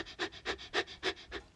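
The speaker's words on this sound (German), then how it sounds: "wusstet ihr, dass Hunde, wenn sie so hecheln," A dog pants rapidly on a walk, six quick rhythmic breaths in even succession, close and fairly soft with no talk over them.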